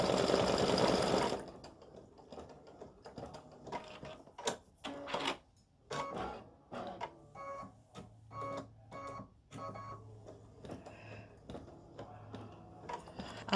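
A sewing machine top stitches flip flop straps in uneven runs of fast mechanical ticking, stopping and starting close by, with a louder whir at the start.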